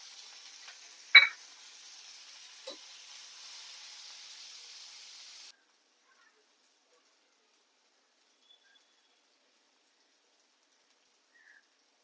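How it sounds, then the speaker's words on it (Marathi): Onion and tomato fry in oil for chilli kharda, a faint, soft sizzle lasting about five seconds with a couple of light knocks before everything falls silent. "आता कांदा आणि टोमॅटो बऱ्यापैकी शिजलाय तेलात"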